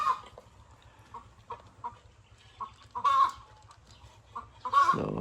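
Chickens on a hot, dry Filipino farm cluck in short separate bursts close by, with a few louder squawks near the end and no talk.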